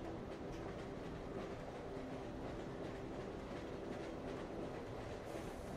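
Train wheels roll along the tracks in a steady, continuous rumble with faint rhythmic clatter, close and even throughout, with no voices.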